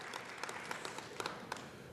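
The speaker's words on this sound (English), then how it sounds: "Let's give Nelson a great round of applause." A crowd at a Regina Chinese Freemason Year of the Dog event applauds for Nelson, with steady clapping heard from some distance and fairly faint.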